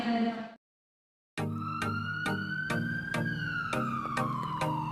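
An ambulance siren wails loudly and close by in a steady rising and falling tone with repeated pulses, following a short burst of something else and a moment of silence.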